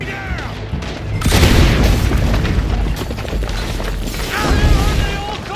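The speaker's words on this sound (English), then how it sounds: "Dutch gives Arthur some dynamite to blow up the wall." Dynamite blows up a wall in the Red Dead Redemption 2 video game, a loud booming blast with rumbling debris that rolls on for several seconds, followed by a second heavy burst.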